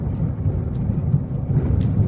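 Town street traffic rumbles through Cabanatuan, a low, close engine drone of passing vehicles with faint higher clicks and rattles, continuous and fairly loud over the short span.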